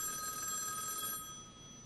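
Telephone bell ringing at a radio show, a single short electronic ring that cuts off and fades into quiet room tone.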